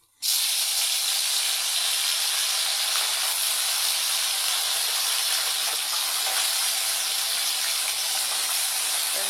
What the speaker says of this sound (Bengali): তো পুঁটি মাছ ফ্রাই করার জন্য এই যে তেল দিয়ে দিলাম।